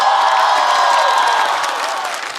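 A studio audience at a Chinese variety talk show applauds and cheers to welcome two stand-up comedians, a loud, dense wash of clapping that holds steady and then eases slightly.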